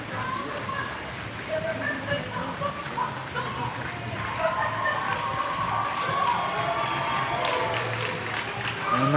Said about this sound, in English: And the crowd's getting louder now